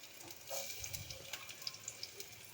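Finely chopped onions hit hot oil in a pan while Maggi noodles are being made, giving a faint, quiet sizzle with scattered small pops and crackles.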